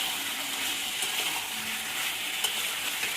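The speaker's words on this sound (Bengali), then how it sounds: "দেখুন চিকেন থেকে জল বেরিয়েছে। এই জলটাকে ভালো করে কষিয়ে কষিয়ে" Chicken sizzles steadily as it is stir-fried kosha-style in a pan with its released water, a dense, close frying hiss with occasional stirring scrapes throughout.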